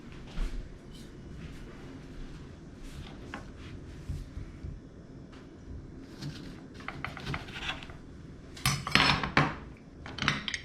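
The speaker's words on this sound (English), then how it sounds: "Next, I'm going to go ahead and cut the lime." A knife slices a lime on a kitchen cutting board while making a Saturn burger, giving soft irregular taps and scrapes, with a few louder clinks of utensils near the end.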